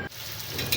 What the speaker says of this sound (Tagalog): para magsimula na tayong iprito ang ating mga hiniwang tokwa